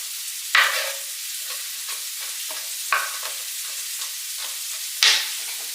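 Onion and garlic cooking in a pan for Zuppa Toscana, with a soft, steady sizzle broken by three louder stirring scrapes spread across the stretch.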